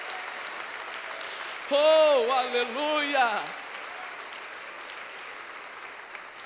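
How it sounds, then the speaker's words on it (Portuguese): A church congregation claps in a steady wash of applause while a voice calls out loudly over it for a couple of seconds. "Pode aplaudir a Jesus"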